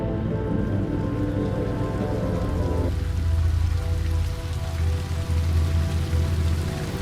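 Light rain drizzling during a mountain lake trek at Deoria Tal near Chopta in Uttarakhand, a steady, dense patter of drops on surfaces, loud and continuous throughout with a low outdoor rumble beneath and no talk.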